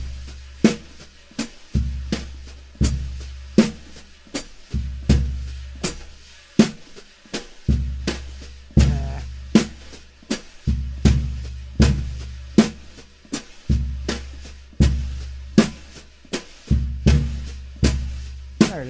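A funk groove on a drum kit played with brushes at a slightly quicker tempo: steady, even hits with low kick thumps and soft swishes repeat in a tight pattern, alone and close.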